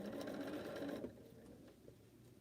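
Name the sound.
sewing machine sewing curved quilt seams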